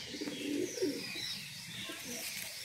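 Punjaban female pigeons cooing softly, a few low murmuring coos close by early on, then fading into quiet background noise.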